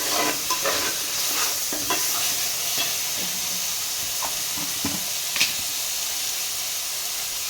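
Mutton bone curry stirred and frying in oil, with a continuous close sizzle and hiss and repeated scraping stirs against the pan.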